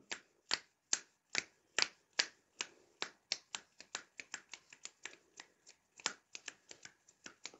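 Children snap their fingers to imitate falling rain during a first-grade Persian lesson. Sharp, crisp snaps start slow and scattered, then quicken into a patter of overlapping clicks, close and fairly quiet with no voices.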